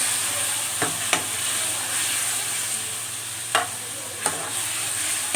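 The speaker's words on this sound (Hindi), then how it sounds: "अब हम इसको अच्छी तरीके से थोड़ा सा 5 मिनट भूनेंगे।" Garlic-ginger paste frying with onions in a pan, a steady close sizzle with a few sharp scrapes of stirring scattered through, no voices.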